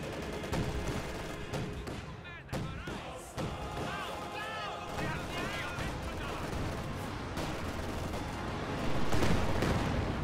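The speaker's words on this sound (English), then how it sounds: "Katyusha bombarding randomly in this area" Rocket artillery barrage from a Katyusha launcher in a combat video game, a dense run of explosive booms and crackling blasts rolling continuously, loud and busy, with a commentator talking over it.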